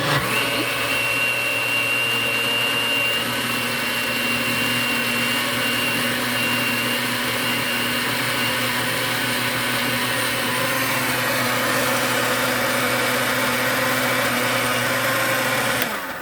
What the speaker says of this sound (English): I'm using the puree smoothie function on this blender right here